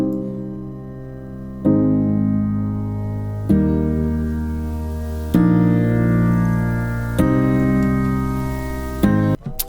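Soft piano played through an OTT compressor plugin as the effect is dragged up. Five sustained chords ring out one after another, each decaying slowly before the next, and the last is cut short. There is no talking.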